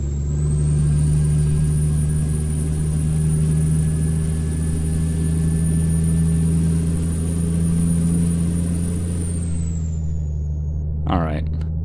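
A truck engine in Euro Truck Simulator 2 drones steadily on a low, constant hum, with a faint high whine over it, and ends in a brief rattle near the end.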